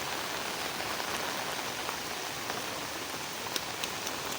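Steady rain falling outdoors on a forest hillside trail near Tungareshwar, a dense continuous hiss with occasional louder drops, close and alone with no voices.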